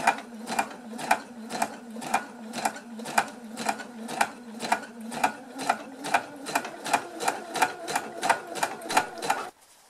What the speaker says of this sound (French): je fais donc mon point zigzag